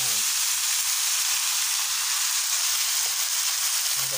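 Pork hitting a hot pan of sautéed onion and garlic for tinola, a loud, continuous close-up sizzle and hiss that fills the whole stretch, with faint low sounds at the edges.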